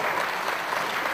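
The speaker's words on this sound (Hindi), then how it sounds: "मैं चाहूंगा जोरदार तालियों से स्वागत हो" Brief burst of audience applause at a conference in Rajasthan welcoming the organiser, a dense steady clatter of many hands from a crowd, moderately faint, lasting about a second.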